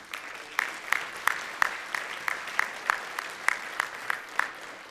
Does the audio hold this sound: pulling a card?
no